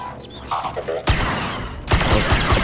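Gunfire in the Star Wars Battlefront 2 campaign, with two loud, sharp bursts of shots standing out over quieter in-game effects, the second burst running on into sustained firing.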